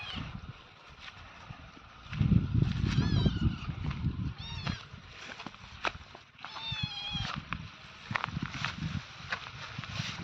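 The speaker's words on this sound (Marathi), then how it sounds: "आणि माझ्यासोबत ही आमची छोटीशी मांजर पण" A cat meows a few times in short rising calls, mixed with rustling and thumping handling noises nearby.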